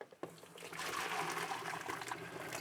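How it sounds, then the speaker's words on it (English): Hot water pours off boiled potatoes, a soft gushing stream that starts after a brief clunk and keeps flowing steadily, fairly quiet, with no voices. "I'm going to drain off the water"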